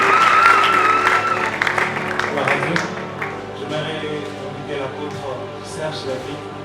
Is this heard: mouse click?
no